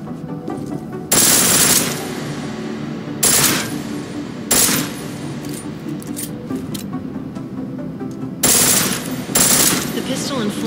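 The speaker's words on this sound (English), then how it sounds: "The pistol in full auto will take down targets fast, but it'll burn through your ammo" A pistol switched to full-auto fire in Deus Ex: Mankind Divided, heard as several short, loud rapid-fire bursts separated by pauses over a steady low background bed.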